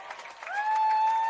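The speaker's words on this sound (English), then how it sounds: "The crowd are appealing." Australian rules football crowd at a QAFL qualifying final between Redland-Victoria Point and Surfers Paradise, roaring an appeal to the umpire. A sustained mass of shouting voices swells and holds, with one rising whistle-like cry cutting through the noise.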